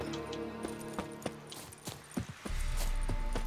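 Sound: horse hooves approaching in the video game The Witcher 3

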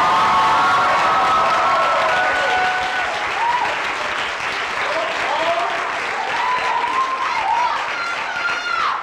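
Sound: audience applause at a choral concert

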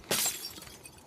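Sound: glass window breaking in The Last of Us Part II video game

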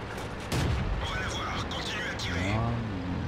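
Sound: Cromwell tank cannon firing in World of Tanks video game

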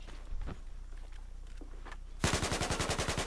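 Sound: gunfire in the video game Battlefield 4

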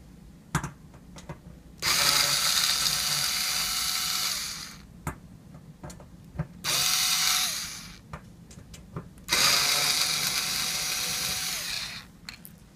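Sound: removing screws from a safe lock entry pad

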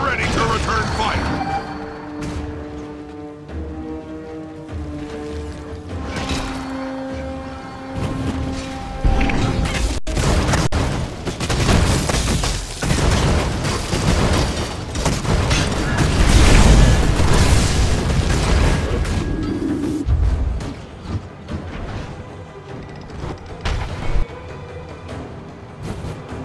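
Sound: trebuchet firing in video game Guild Wars 2

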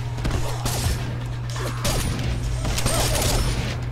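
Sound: gunshots from a character's gun in Mortal Kombat video game

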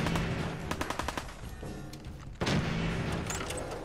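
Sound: gunshots in the video game Fallout 4

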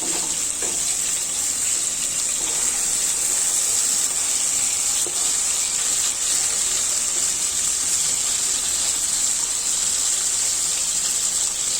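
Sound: frying pointed gourd in oil on low flame

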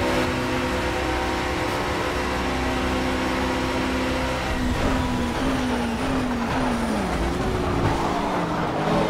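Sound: racing car engines in Project CARS video game, Porsche

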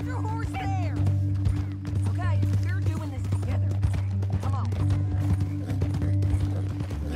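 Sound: horse hooves in video game Red Dead Redemption 2

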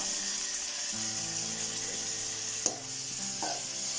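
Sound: tomatoes being stirred and fried in a pan

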